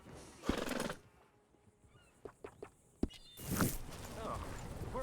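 Red Dead Redemption horse snorts and neighs nearby, with a few hoof clops in between and another loud whinny near the end; a voice speaks over part of it.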